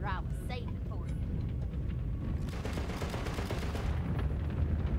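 Continuous gunfire from a player's weapon in the looter-shooter Borderlands 3, dense rapid bursts with heavy low rumble filling the whole stretch, rising into a brighter, louder volley partway through alongside game sound effects.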